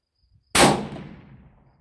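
One loud rifle shot from a .300 RUM handload firing a Barnes 190 grain LRX bullet, a sharp near crack followed by a fading outdoor rumble and echo, with nothing else heard.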